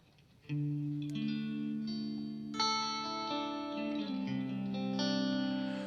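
An electric guitar plays sustained chords and single notes through a Walrus Fundamental pedal in hall reverb mode, each note ringing out with a long, spacious tail. No one speaks.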